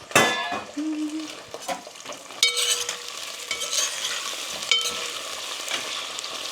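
Curry leaves sizzle in hot oil in a covered pan, a crackling fry punctuated by sharp spatters, clinks and stirring scrapes, with a brief tonal whine early on.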